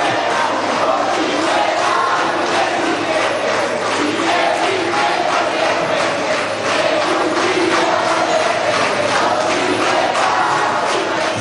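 A large crowd at a Venezuelan political rally chants and shouts together in a loud, continuous rhythmic roar.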